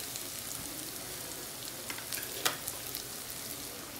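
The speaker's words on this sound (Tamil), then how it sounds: "இதையும் லைட்டாக வதங்குற அளவுக்கு மட்டும் நம்ம வதக்கி எடுத்துக்கலாம்" Carrots, capsicum and cabbage sauté in a pan with garlic paste for schezwan veg noodles, giving a soft, steady sizzle with light stirring scrapes and a brief sharper clatter midway.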